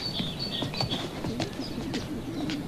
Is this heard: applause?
no